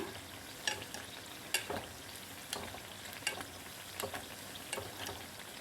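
Chilli bajji deep-frying in oil over a medium flame, with oil spooned over the top: a soft, steady bubbling sizzle broken by light, regular ladle taps and splashes, fairly quiet, no speech.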